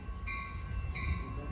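An Amtrak Capitol Corridor passenger train approaching Martinez sounds two brief horn blasts over a low rumble, heard at a moderate distance, with no talking.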